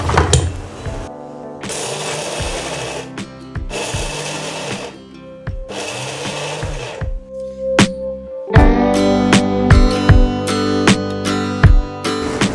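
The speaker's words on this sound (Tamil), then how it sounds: "இப்போ இதை அரைச்சிக்கலாம்." An electric mixer grinder blends coconut chutney in several loud whirring bursts with short pauses between, followed by rattling and clattering of the jar.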